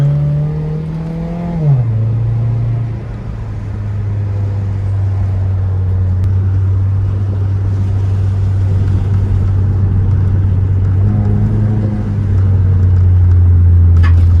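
A modded fourth-generation Mitsubishi Eclipse drives hard from the inside, its engine pitch dropping sharply at an upshift early on, then holding a loud steady drone with another brief shift near the end, no talking.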